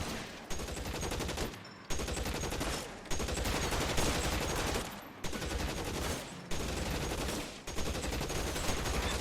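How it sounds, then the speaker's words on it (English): Sustained gunfire in the video game L.A. Noire: dense, rapid bursts of shots in a continuous loud barrage, broken by several short pauses. "És lőnek, érted?"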